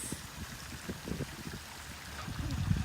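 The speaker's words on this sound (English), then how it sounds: "As you can hear it, you probably can hear it, some waterfalls." A backyard pond waterfall at night, a faint, steady splashing and trickling of falling water with low gurgles, heard from a short distance in a quiet setting.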